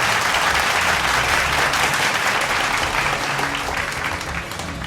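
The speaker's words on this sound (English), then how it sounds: "Welcome Mukesh on stage with a very huge round of applause." An audience at a school annual day prize giving bursts into a sustained round of dense clapping that tapers slightly toward the end.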